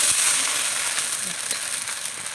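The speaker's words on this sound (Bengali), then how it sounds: "দেখুন আমি কড়াইয়ের মধ্যে ব্যাটারটা দিয়ে দিচ্ছি" Chitoi pitha batter poured into a hot iron wok sizzles in a steady, loud bright hiss, close up and continuous throughout, with no talking.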